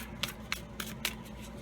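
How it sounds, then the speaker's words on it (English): Tarot cards being shuffled by hand, four crisp riffling bursts spaced roughly a quarter second apart, close and clear against a quiet room hum, with no talking. "I'm going to clear these cards and then let's get into this shuffle."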